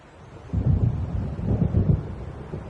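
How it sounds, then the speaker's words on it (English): Thunder from an approaching storm in a Remedy video game rolls in as deep, low rumbles that swell twice in close succession, with a soft windy hiss underneath. "It seems there's a storm coming."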